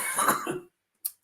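A man coughs hard, one harsh, raspy burst close to the microphone, followed by a short pause and a faint breath or click.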